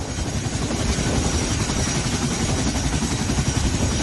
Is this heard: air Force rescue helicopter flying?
yes